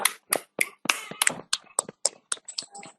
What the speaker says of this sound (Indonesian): beri aplaus bersama-sama